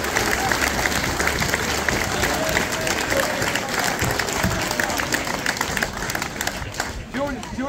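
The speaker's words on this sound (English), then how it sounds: "a big round of applause for all the players that went out there on the pitch today" Loud, continuous applause and cheering from a crowd at Westport RFC's rugby cup-win presentation and celebration, clapping for the players, with voices and shouts mixed into the roar throughout.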